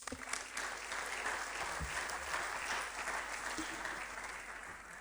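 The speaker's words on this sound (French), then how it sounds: "Est-ce qu'on peut à nouveau l'applaudir pour le lancement officiel des travaux" An audience at the official technical launch of the Salon Osiane trade event claps steadily, a dense wash of applause lasting several seconds at moderate distance.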